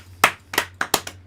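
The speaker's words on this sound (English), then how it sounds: "Round of applause for Master Ben Swan." A handful of sharp, close hand claps, about five, in a quick, slightly uneven rhythm.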